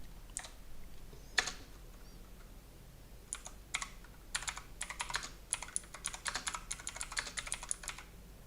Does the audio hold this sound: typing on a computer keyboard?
yes